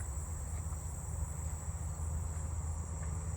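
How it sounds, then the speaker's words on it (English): A Carolina ground cricket sings a steady, continuous high trill in daytime, faint and constant against low background rumble, with no voices. "I think it's a Carolina ground cricket"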